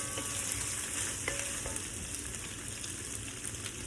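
Pork browning and charring in a pan for a Hmong pork curry, a steady, close sizzle and crackle of frying meat with a few brief utensil clicks, no talking.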